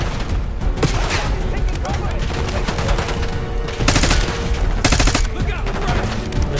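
Rapid automatic gunfire from Call of Duty Black Ops 6 crackles in dense bursts, with a couple of sharper, louder volleys standing out near the end, close and loud throughout amid a busy firefight.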